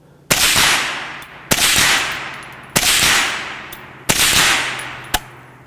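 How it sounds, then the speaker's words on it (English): A Bear Creek Arsenal BC-202 rifle in .22 Magnum fires five sharp, loud shots at a steady pace roughly a second apart, each crack followed by a short ringing decay, with no talking. "Let's do some more shooting."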